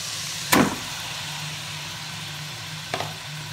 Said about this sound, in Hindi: मैं इसमें जो चिकन पड़ा है वो डाल दूँगी